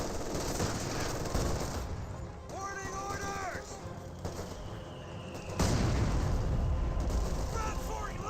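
Battle sounds from Company of Heroes 2, with machine gun fire, including an MG42 and a .50 cal placement, mixed with explosions and rumbling gunfire, under a caster's commentary.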